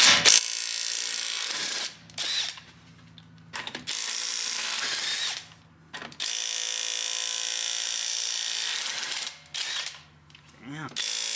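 An impact tool with a 21mm socket spins lug nuts off a Ford GT350 in several loud, sustained bursts, each separated by a short quiet gap.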